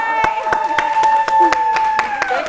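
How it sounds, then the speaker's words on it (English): A talk-show audience claps for Tatiana in sharp, evenly spaced claps about four per second. The claps sound close and fairly loud over a sustained musical tone underneath. "Let's clap it up for Tatiana."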